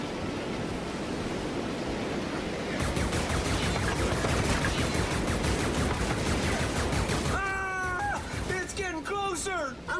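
Video game gunfire rattles in rapid bursts over dense background noise, with clear repeated shots through the middle and tonal electronic effects near the end; talk is heard under it.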